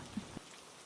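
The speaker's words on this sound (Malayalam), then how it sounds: "ഇത്രയും ശക്തമായിട്ടുള്ളൊരു മഴ ആദ്യമായിട്ടാണ് കേട്ടോ കാണണത്" Heavy rain pours down in a dense, steady hiss of drops striking surfaces, heard briefly and fairly softly, with no voices.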